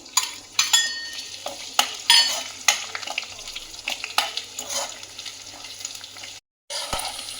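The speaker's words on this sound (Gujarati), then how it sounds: "કેપ્સિકમની આપણે ફ્રાય કરી લઈશું" Capsicum frying in a pan, crackling and sizzling with repeated sharp stirring scrapes and clinks of a spoon against the pan, close and fairly loud, then a brief silent gap near the end.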